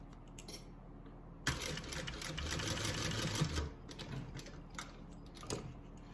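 A domestic sewing machine runs a quick basting stitch over D-rings on a handbag, a burst of rapid, close mechanical clatter lasting about two seconds, followed by softer handling clicks and a brief tap.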